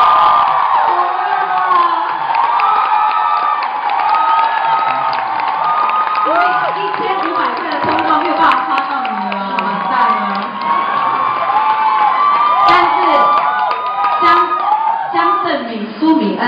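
A concert audience at an Indigenous mother-tongue song show cheers and shouts in a loud, sustained roar of whoops and voices, with people talking over the crowd noise.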